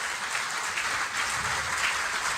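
An audience breaks into steady, dense applause, a continuous wash of many hands clapping at even loudness throughout, with no voices standing out.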